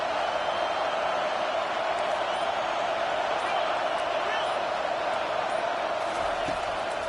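Home crowd noise at a college football game between Tennessee and Miami, a steady loud roar of the stadium crowd on a third down that holds unbroken throughout.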